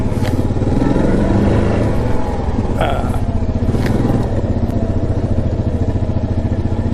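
ATV engine running on a snowy winter trail, a steady mid-pitched drone with rhythmic clatter, close and continuous with no speech.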